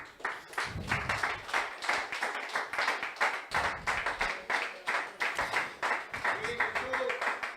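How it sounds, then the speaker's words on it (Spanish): Church congregation standing and applauding to God during a sermon, rhythmic, rapid clapping from many hands in a reverberant hall, with voices talking and calling out over it. "Den un aplauso a Dios."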